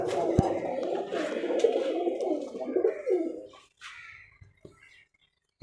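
Giribaz pigeon, an old Rajshahi high-flyer breed, cooing in a steady run of soft, low, rolling coos close to the microphone, fading out toward the end.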